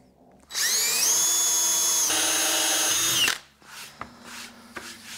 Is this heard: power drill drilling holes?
yes